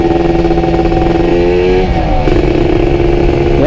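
A Kawasaki Ninja motorcycle with a replaced exhaust runs steadily close to the microphone, a loud, continuous engine drone whose pitch shifts slightly, recorded from outside the helmet.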